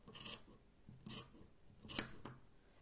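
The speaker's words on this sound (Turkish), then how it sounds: "Bunları düzelteceğim. Şuradan makasımı da alıyorum." Scissors snip through the yarn tassels of a crocheted sunny-square scarf in three crisp, separate cuts, close and clear against a quiet background.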